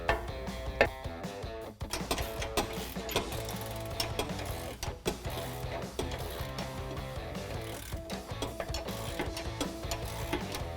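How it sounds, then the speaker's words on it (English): Ratchet with a 16mm deep socket tightening the bolts on a RedRock Stubby Pre-Runner front bumper on a 2018 Jeep Wrangler JL, rapid close metallic clicking in steady bursts with brief pauses and no talk. "we are going to be tightening this down with a 16mm open-ended or box wrench"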